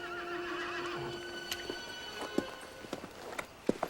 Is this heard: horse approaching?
yes